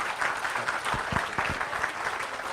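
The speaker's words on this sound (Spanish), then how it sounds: "unos aplausos para nuestro doctor" An audience at an international congress applauds a doctor after his talk, with steady, moderately loud clapping and a few sharper individual claps near the front.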